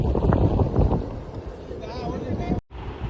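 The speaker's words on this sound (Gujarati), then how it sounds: "અહીંયા વાળ ઉડે એટલો પવન આવે છે." Strong wind at a hilltop Meldi Ma temple near Bhavnagar roars and buffets against the microphone. The gusts stay loud and close, with a brief dropout near the end.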